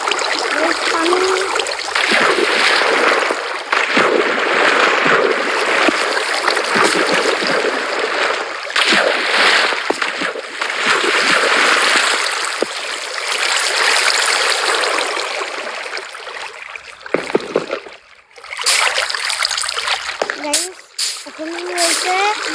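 Water flows in the Minecraft video game as a loud, continuous rushing stream with scattered splashy bursts, dipping briefly toward the end before picking up again.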